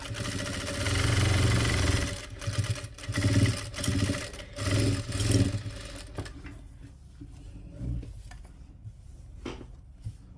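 Sewing machine stitching a doormat made from old clothes, loud bursts of fast mechanical whirring in several short runs, then quieter intermittent stitching with pauses.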